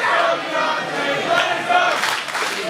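A wrestling crowd at an EMERGE Wrestling event cheers and shouts for Deonta Davis, a loud sustained roar of many voices that swells toward the end.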